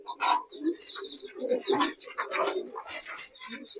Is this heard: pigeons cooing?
yes